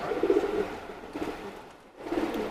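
Teddy pigeons give soft, throaty coos, two or three low bursts with a short pause between, nearby and fairly quiet with no talk.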